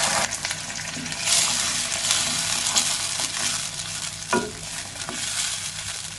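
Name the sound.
chutney being stirred and sizzling in a pan on low flame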